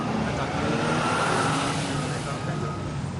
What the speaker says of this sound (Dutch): Een auto komt snel op ons af.